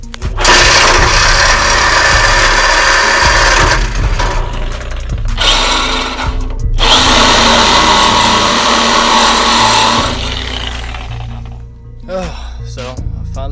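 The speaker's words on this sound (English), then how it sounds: "let's see if this handy dandy handsaw will cut through this exhaust." Handsaw cutting through a thick steel exhaust pipe on a Ford F250 during a muffler delete, a loud, continuous rasping in long bursts with brief pauses between strokes, up close.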